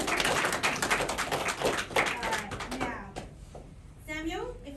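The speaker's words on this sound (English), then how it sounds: "let's give a clap for the ring bearer" Wedding guests clap for the ring bearer during the ceremony, a dense, fairly close burst of applause that fades out after about three seconds, followed by a voice and other talk.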